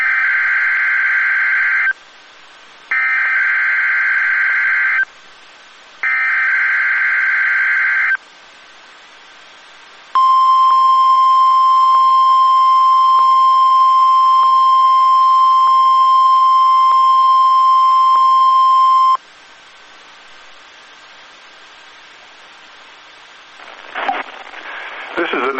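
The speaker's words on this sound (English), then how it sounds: "The preceding signal was a test of the NOAA Weather Radio's public warning system." A NOAA Weather Radio emergency alert test signal: three long, loud electronic header bursts, then a sustained steady warning tone lasting about nine seconds, followed by quieter broadcast noise.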